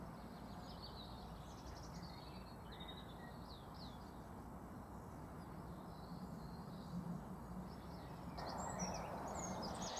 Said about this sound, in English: I could just sit here and listen to the birds